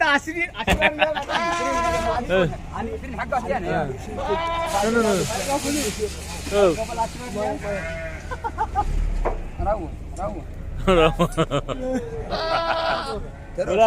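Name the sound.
goats bleating at a goat market in Al-Hasa, Saudi Arabia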